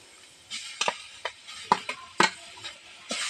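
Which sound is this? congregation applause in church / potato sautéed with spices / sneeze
potato sautéed with spices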